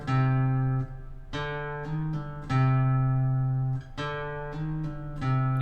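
Guitar picking the opening notes of a song, clean plucked notes ringing one after another with quick hammer-on and pull-off slurs, close and clear, with no talking.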